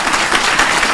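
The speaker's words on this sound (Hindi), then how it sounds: "और आप ताली भी बजा दी इस चीज के लिए।" Audience applause fills a seminar hall, a dense steady wash of many hands clapping at once, loud and continuous throughout.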